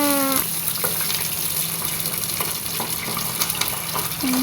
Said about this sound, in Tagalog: O ayan, iprito na natin sa ating kawali na kaunti lang ang mantika.